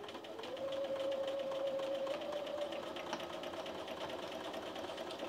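A Bernina sewing machine quilting straight lines with a walking foot, its fast steady mechanical whir running continuously and close, with no talk over it.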